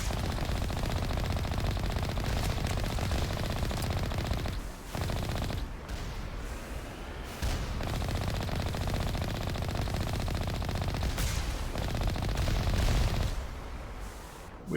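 Turrets in Mass Effect fire in continuous rapid bursts, dense and loud, with brief gaps between volleys and a thick rumbling background throughout.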